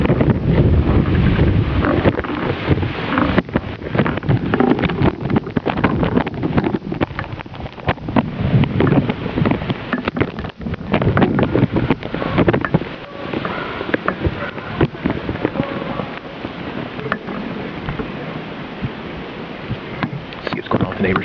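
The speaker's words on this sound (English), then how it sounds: "A little windy." Strong blizzard wind gusts roar and buffet the microphone outdoors on a hillside cul-de-sac in Missouri, loud and continuous with surging bursts throughout.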